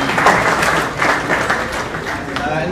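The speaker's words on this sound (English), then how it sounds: "That was just a round of applause." Round of applause from a conference audience at a cannabis industry event, steady crowd clapping throughout, with voices mixed in.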